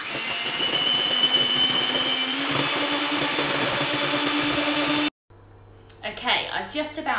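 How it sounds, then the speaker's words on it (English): An electric whisk beats cake mixture until pale and thick, a steady loud whirring hum for about five seconds that cuts off abruptly, followed by a quieter interval with a person speaking. "just about finished whisking"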